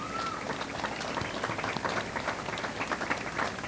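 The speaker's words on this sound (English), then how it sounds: "A round of applause for these folks," Audience applause at the opening ceremonies of a 2018 Strassenfest, with many individual claps standing out over a busy crowd wash that holds steady at moderate loudness.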